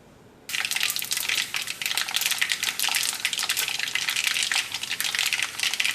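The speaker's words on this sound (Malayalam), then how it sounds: "കടുക് പൊട്ടിയിട്ടുണ്ട്." After a quiet moment, mustard seeds in hot oil erupt into dense, rapid crackling, popping and spattering that stays busy and close until the end.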